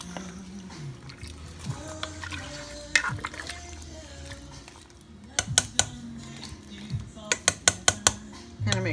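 A spoon stirring red sauce in a pot on the stove: scraping and soft liquid movement, then a run of quick metallic clinks and taps against the pot, close and moderately loud.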